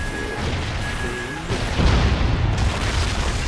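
A KEM strike detonates in Call of Duty Ghosts, a dense roaring wall of explosion and rumbling blasts that swells louder midway and stays loud and continuous throughout.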